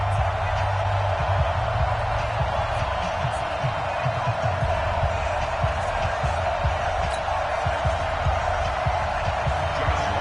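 Stadium crowd noise fills an NFL football video game, Los Angeles Rams versus Seattle Seahawks, as a dense, constant roar with faint thumps and bursts of cheering throughout.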